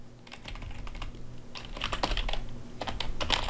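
Clicky computer keyboard keystrokes as a text prompt is typed, sparse at first and then quickening into dense bursts of close, crisp clicks, with no talking.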